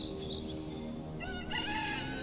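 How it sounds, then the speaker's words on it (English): A rooster crows over a steady low background hum, its call rising and falling in a bright, fairly clear burst, with faint bird chirps near the start. "Before the roosters crow,"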